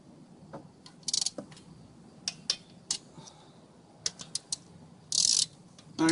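Ratchet clicking while tightening the bolts on a Vortec CPI fuel injector, heard as scattered short bursts of rapid clicks with pauses between them, fairly close and with no talking.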